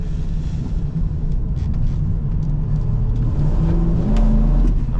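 A 1995 Ford Bronco Eddie Bauer with a 5.8 V8 accelerates, producing a loud, deep, continuous engine rumble that rises in pitch toward the end, heard from inside the cabin.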